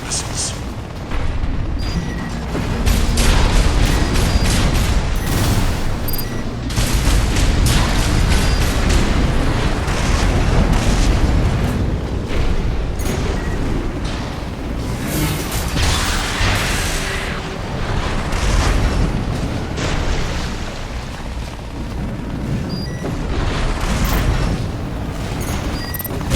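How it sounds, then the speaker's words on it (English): Missile launches and heavy explosions in the mech combat game Armored Core VI, a dense, continuous barrage of booms and bursts with loud rumbling impacts and some speech mixed in underneath. "Use your missiles."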